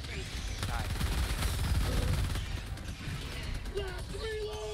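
Rapid automatic fire from a deployed sentry turret in Helldivers 2, a loud, sustained stream of shots in a chaotic fight, with voices speaking over the din.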